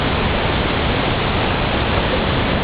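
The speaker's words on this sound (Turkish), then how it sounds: "Sular her taraftan fışkırıyor." Water gushes from all sides at a trout farm near Çakırlı in Tarsus, Mersin, a dense, steady broadband roar like a waterfall filling the whole clip without pause.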